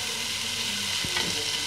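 Masala frying in oil in a pot for fish biryani with a little water added, a dense, even hiss of sizzling with a single light knock partway through, close and unbroken by speech.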